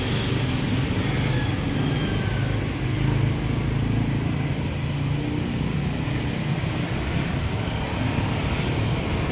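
Dense road traffic on a Manila boulevard near a highway connector under construction, a steady loud rumble of passing vehicles with no clear breaks.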